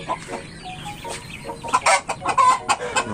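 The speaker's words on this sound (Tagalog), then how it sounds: "Ito yung ating Chinese chicken." Chinese chickens clucking close by in a farm yard, a run of repeated short clucks and squawks growing louder and busier toward the end.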